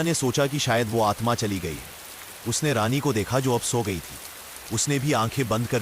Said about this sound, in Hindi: सन्नाटा छा गया था सिवाय बारिश के शोर के।